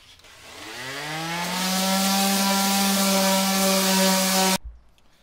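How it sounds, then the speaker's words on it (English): A power sander smooths wood for a cigar box guitar neck in a home workshop. The motor whines up, holds a steady loud tone for a few seconds, then cuts off abruptly. No one speaks. "So I'm just going to sand this nice and smooth."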